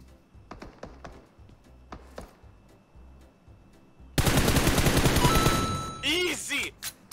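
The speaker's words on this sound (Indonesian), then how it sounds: "Dia lagi nembakin bot guys." Gunfire in the video game PUBG as a player shoots at bots: scattered single shots and keyboard clicks, then a loud sustained burst of rapid automatic fire lasting about two seconds, followed by a few more shots.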